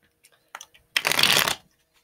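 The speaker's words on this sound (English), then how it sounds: "Let me shuffle again." A brief riffle of tarot cards being shuffled, a quick burst of crisp flapping after a few light taps, then quiet.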